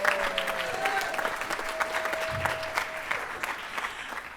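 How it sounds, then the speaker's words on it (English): A high school band concert audience claps in warm, continuous applause that stays even throughout, with a faint tone and crowd murmur underneath. "round of applause"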